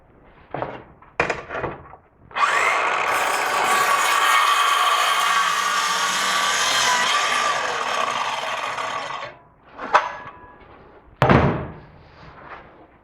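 A power saw rips a sheet along a straight edge clamp for a pool table build, one loud sustained whining cut of about seven seconds, framed by short knocks and clunks of handling before and after.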